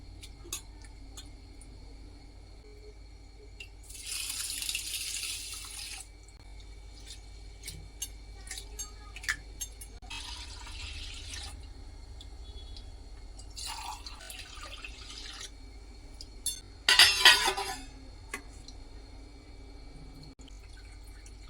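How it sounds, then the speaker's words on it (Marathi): Chana dal, fenugreek seeds and poha being washed in water in a kitchen, with soft drips and several bursts of splashing and pouring over a quiet background. "हे सगळं आपल्याला आता छान धुवून घ्यायचं आहे"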